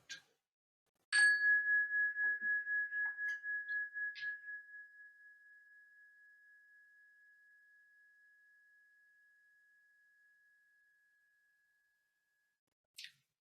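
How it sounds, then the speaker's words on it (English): A single chime struck once rings out clear and bright, then its steady tone fades slowly over about ten seconds into near silence, alone with no talk. "one strike of this chime, listening with our fullest possible attention for the very last trace of this fading sound"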